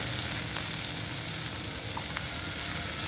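Potatoes fry in a kadhai for poha, a continuous, even sizzle of oil that stays close and steady throughout with no talking.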